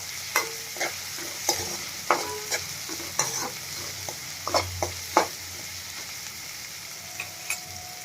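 Large pieces of green chili fry in a pan for pasta sauce, a soft sizzle under a series of sharp spatula scrapes and clinks from stirring, close and irregular, tapering off toward the end.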